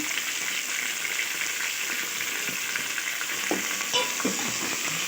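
Okra sizzling in a hot pan with cumin and mustard seeds, a steady dense frying hiss with occasional stirring scrapes, close and continuous with no talking.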